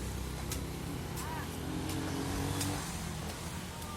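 Steady roar of vehicles passing on a rural highway right beside a provincial house, a constant close engine and tire rumble with no breaks.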